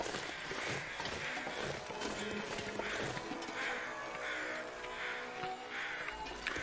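Crows caw repeatedly in The Long Dark, a run of harsh calls over a busy background of other game sounds, fairly close and steady with no speech.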